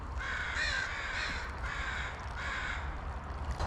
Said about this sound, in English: It's just me and the crows.